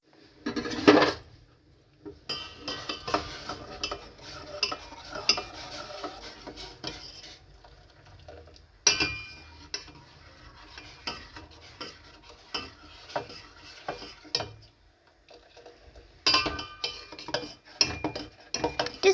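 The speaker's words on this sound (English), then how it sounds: "I want to mash my milk" Custard is mashed and stirred into milk in a pot, with a spoon scraping and clinking against the metal in bursts of busy stirring separated by short quiet pauses.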